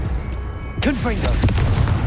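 Spell blasts boom in a Hogwarts Legacy duel, sharp bursts tangled with shouted incantations and swooping magic effects, loud and close.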